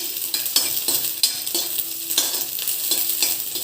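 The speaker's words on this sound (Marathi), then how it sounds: "कांदा ट्रान्सपरंट होईपर्यंत परतून घेऊ।" Onion sautéing in a pan until translucent for paneer do pyaza, with loud, rhythmic spatula scrapes and stirring strokes over a steady sizzle, close by and with no talking.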